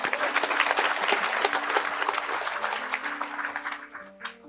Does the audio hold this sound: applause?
yes